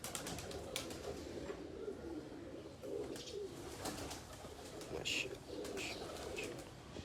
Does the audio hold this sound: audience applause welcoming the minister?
no